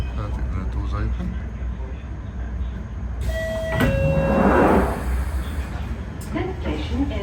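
London Underground Northern line train doors at Camden Town slide open with a clunk and a hissing rush, preceded by warning beeps, while someone talks over the carriage rumble.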